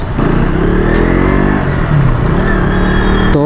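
A motorbike runs along a road, a loud close engine drone with shifting pitch as it rides steadily, wind rushing over it, no talk.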